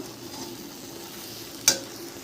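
Snake gourd with ground spices and turmeric is stirred in a pan over a soft, steady low sizzle, with a single sharp scrape or clink of the spoon near the end.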